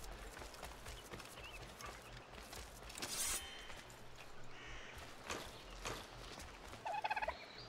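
A turkey gobbling in the video game Assassin's Creed Rogue: a few short gobbling bursts over quiet game ambience, with faint clopping hooves nearby.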